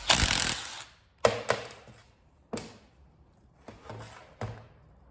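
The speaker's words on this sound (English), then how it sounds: "We're going to start by pulling the nut off the front of the clutch hub itself." A 3/4-inch nut being worked off the clutch hub of a Sanden A/C compressor with a tool, heard as a few sharp separate clacks and ratcheting bursts spaced out over several seconds after a longer hiss at the start.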